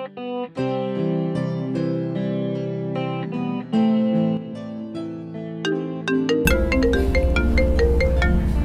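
A phone rings with a melodic electronic ringtone that plays a looping series of tonal notes. Partway through, a louder and busier section of the tune takes over, and no one speaks over it.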